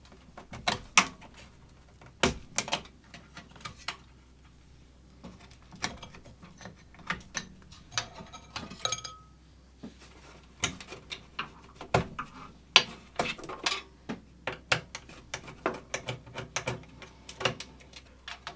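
A screwdriver backs out the screws holding a computer motherboard assembly, giving small close clicks and taps that come irregularly alongside faint metallic handling rattles over a low steady hum, with no talking.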